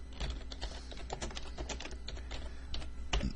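Rapid typing on a computer keyboard, a close, continuous patter of key clicks with uneven rhythm and a few heavier strikes, heard alone for a few seconds.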